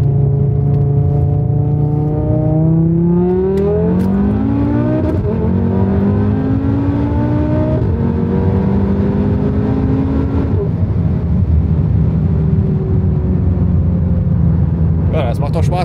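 Tuned five-cylinder VW Golf 7 R accelerating hard in second gear, loud in-cabin engine roar climbing steadily in pitch through repeated upshift-like sweeps, with talk over it.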